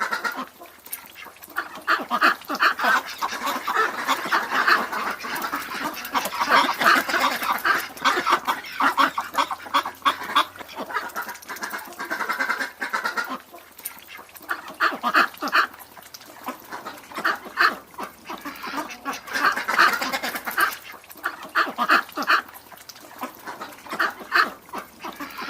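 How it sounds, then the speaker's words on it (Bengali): A crowd of ducks and chickens at a market quack, honk and cluck loudly and close by in dense overlapping bursts, with brief lulls between them. "ওয়াও, কি সুন্দর সুন্দর মুরগি, কতগুলো হাঁস। হাঁসগুলো অনেক সুন্দর।"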